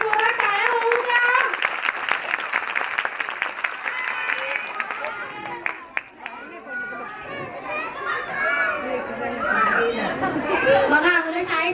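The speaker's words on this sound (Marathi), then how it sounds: "जरा जोरात टाळ्या वाजवून द्या." Applause from the audience at a primary school's annual day function, a dense burst of clapping mixed with lively children's voices, fading into busy crowd chatter and kids talking.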